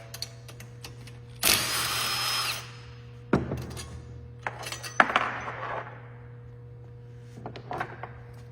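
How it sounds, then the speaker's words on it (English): A power tool drives out the four cylinder head bolts on a Honda GX160 engine in short whirring bursts, followed by light metallic clinks and taps from nearby handling. "There's 4 bolts to take the head off."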